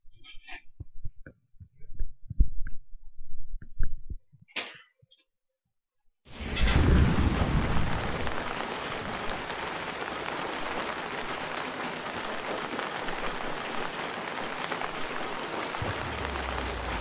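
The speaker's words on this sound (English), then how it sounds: "Get the rain sounds for a long time while it's still synchronizing." Heavy rain in Call of Duty: World at War pours in a dense, steady hiss after a few seconds of quieter game sounds and a brief silence, continuing loud and unbroken to the end.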